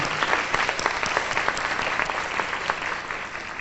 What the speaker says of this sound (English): would you all applaud with me for these wonderful people who put this on?